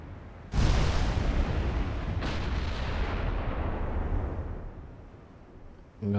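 Battleship guns fire in Ultimate Admiral: Dreadnoughts, a loud close blast with a second salvo about two seconds later, each trailing into a long rumbling decay.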